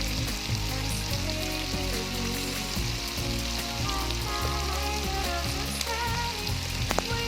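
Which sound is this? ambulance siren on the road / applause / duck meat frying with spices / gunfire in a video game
duck meat frying with spices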